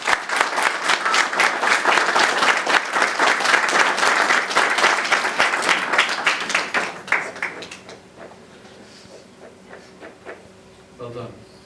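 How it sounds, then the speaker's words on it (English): Wedding guests applaud together at a Scottish wedding ceremony, a strong burst of clapping that holds for around seven seconds and then tapers off into quiet with a few scattered claps. "round of applause"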